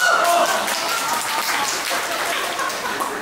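A theatre audience at a Deyunshe crosstalk show in Nanjing claps in a steady, dense burst of applause that fades slightly over a few seconds.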